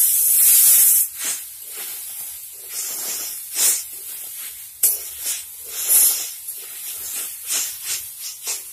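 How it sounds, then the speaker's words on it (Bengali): Sliced snake gourd frying in a pan on a home kitchen stove, a loud sizzling hiss that starts strong then comes in repeated bursts as the pieces are stirred, close by. "এখন চিচিঙ্গার ভাজা হচ্ছে"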